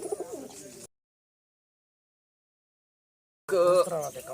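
Pigeons kept by an old village pigeon fancier coo in two short bursts, separated by a few seconds of near-silence.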